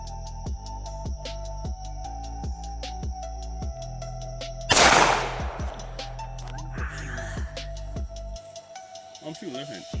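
A handgun shot at an outdoor shooting range cracks once, loud and sharp, amid steady background hum and clicks, with people talking around it.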